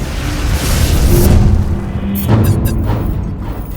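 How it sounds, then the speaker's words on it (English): A roaring, booming rush from the Ronson flamethrower on an M3 Stuart light tank, fitted in place of its 37mm cannon, fires in two sustained surges. Each is loud and broad, with no voices. "The Satan Flame Tank is a reconditioned Stuart M3 light tank. Its 37mm main cannon refitted with a Canadian-designed Ronson flamethrower."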